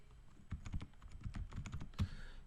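A computer keyboard is typed on in quick bursts of crisp, close clicks, with a short pause before a final keystroke, while entering a report title in MS Access.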